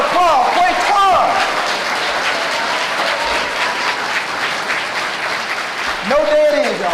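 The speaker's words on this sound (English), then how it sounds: "Let's give him a round of applause" A school-event audience gives a round of applause, sustained clapping filling the room, with a voice over it at the start and again near the end.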